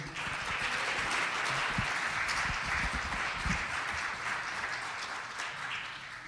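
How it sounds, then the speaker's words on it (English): Sustained audience applause at a leadership academy recognition event, a dense even wash of many hands clapping that holds steady at full level throughout, with no talk over it. "So another round of applause to those folks."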